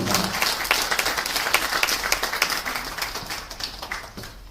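Audience applause at a literary magazine's short story competition award night, greeting the founder and board chair of a clothing group; dense, steady clapping from a nearby crowd that fades slightly toward the end.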